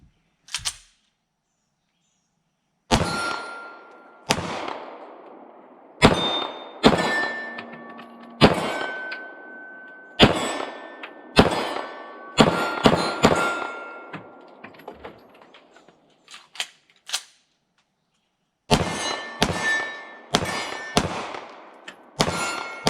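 IWI Jericho 941 pistol fired from a deck at steel targets about 15 yards away: sharp shots, each followed by a ringing metallic clang, in quick strings with pauses, loud and close.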